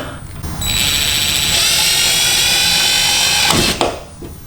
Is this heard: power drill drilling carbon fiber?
yes